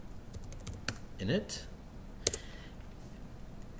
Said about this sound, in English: So I just type in Docker Swarm